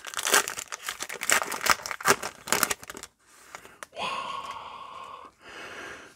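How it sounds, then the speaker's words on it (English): Foil wrapper of a 2020 Topps Allen & Ginter retail baseball card pack being crinkled and torn open, loud close crackling bursts for about three seconds, then a short rip and softer rustling as the cards slide out. "let's get into the first pack by gripping and ripping"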